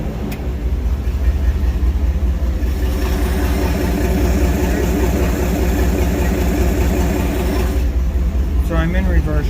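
A 1954 GMC COE truck engine runs steadily at a low, rumbling idle, loud and close throughout, with a brief higher rattle near the end.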